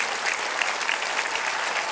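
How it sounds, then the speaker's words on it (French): A church congregation claps steadily after a choir performs, a dense wash of applause with no pauses. "Applaudissons-les bien fort."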